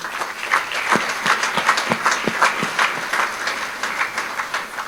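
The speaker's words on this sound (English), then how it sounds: "I would love a hand of gratitude to our board members from the crowd." An audience at an LA gala applauds steadily, a dense patter of many hands clapping at close-to-mid distance, sustained evenly for several seconds without speech.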